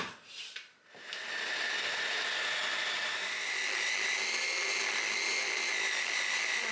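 A blender blitzes creamy hummus with caramelised onion: a few short handling knocks, then the motor starts and runs as a steady high whine, loud and alone.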